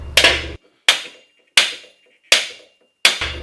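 Five loud, sharp metallic hammer blows on a 2007 Corvette C6 axle shaft being driven out of its wheel hub, evenly spaced about a second apart, each ringing briefly before dying away.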